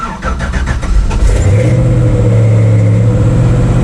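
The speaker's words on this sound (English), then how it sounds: "turn the key on, put the fuel pump up, prime up, whatever you call it, start" An LS-swapped engine in a square body truck cranks with rapid rhythmic turnover, then fires and settles into a loud, steady idle close by with no talk.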